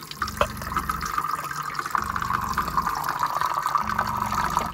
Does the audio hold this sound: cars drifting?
no